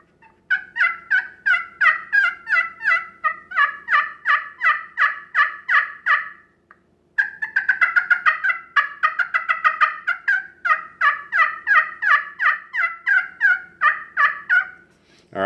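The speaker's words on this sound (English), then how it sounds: "We're going to take it, just place it on the call, and start striking." A glass pot turkey call is worked with a striker, producing loud, rapid series of raspy yelps and clucks in rhythmic bursts with a brief pause midway, close and alone.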